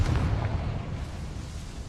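A Confringo explosion spell cast in Hogwarts Legacy, a single loud, deep boom at the start that rumbles and fades away over about two seconds.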